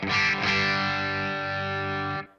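Electric guitar played through Two Notes OPUS cabinet simulation with EQ off: a single loud, distorted sustained chord, struck twice near the start and then left ringing steadily for about two seconds before cutting off.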